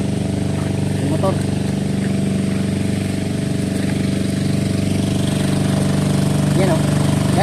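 A motorcycle engine idling close by in a steady low chug, running continuously while people talk faintly in the background.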